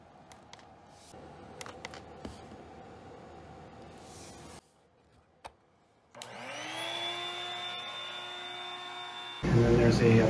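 An electric pump inflating a blow-up air mattress starts at about six seconds after quieter room sounds, a loud steady motor whine rising in pitch as it spins up, then growing louder and harsher near the end.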